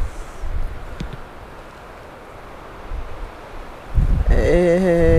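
Wind blowing across an open plateau above the Verdon gorges near Valensole, a steady low rumble and hiss that swells into louder buffeting gusts against the microphone toward the end.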